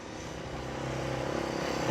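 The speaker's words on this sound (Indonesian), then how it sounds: "Sebentar biar motor lewat dulu." A motorcycle passes on a street beside a parked Yamaha Fazzio 125 scooter, its engine drone steadily growing louder and nearer over two seconds with no talking.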